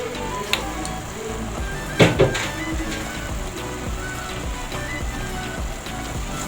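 Tripe (matumbo) and cowpeas frying in a pan, giving a steady close crackling sizzle throughout, with a sharp clatter of stirring near the middle.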